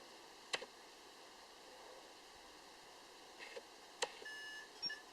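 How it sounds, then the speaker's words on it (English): A Blade 350 QX2 quadcopter lets out short electronic beeps while binding, a few sharp chirps spread across the stretch over a faint steady background hum, quiet and close by. "Hold it for a couple seconds, then the quad should beep."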